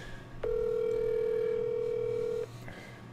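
Telephone tone while placing a call: a single steady electronic tone held for about two seconds, clear and fairly loud against a quiet background, then cutting off.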